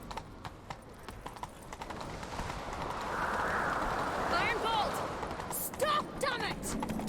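Hooves clatter in a steady galloping rhythm in The Witcher 3: Wild Hunt, close and fairly loud, with a few sharp effects and bursts of other sounds over it.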